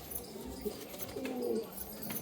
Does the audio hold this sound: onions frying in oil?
no